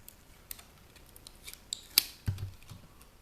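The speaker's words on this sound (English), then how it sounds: "Now to get as much of this these wires off as possible, flip it upside down and peel backward." Wires peeled backward off an upside-down e-waste circuit board from a media player give a few sharp snips and clicks, then a low tearing thud, quiet and close with no speech.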